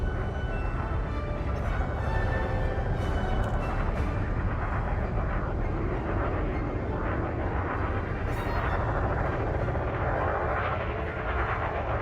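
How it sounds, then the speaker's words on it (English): Spaceship landing gear deploys in a video game: a loud, continuous rumbling roar of engines fills the whole stretch, with a brief mechanical whoosh near the end. "Landing gear deployed."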